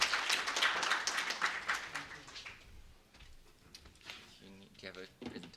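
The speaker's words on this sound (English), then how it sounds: "Can we welcome him with a round of applause?" An audience applauds to welcome a speaker at the ADPW 2023 conference plenary session. The dense clapping is loud at first, fades over about two and a half seconds, and then gives way to someone talking.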